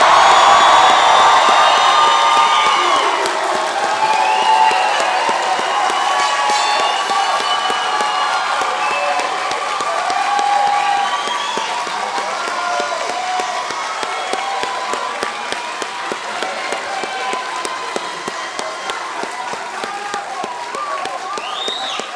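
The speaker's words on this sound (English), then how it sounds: "Let's give one final round of applause for our graduates." A large audience at a nursing graduation ceremony claps and cheers loudly for the graduates, with whoops and shouts over dense applause that eases slightly but keeps going.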